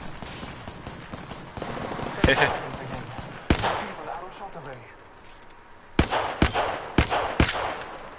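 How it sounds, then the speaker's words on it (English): Several sharp gunshots in Apex Legends, a lone crack then quick bursts of two and three, loud and close over a busy game soundscape, with a player talking at times. "How did none of those shots hit?"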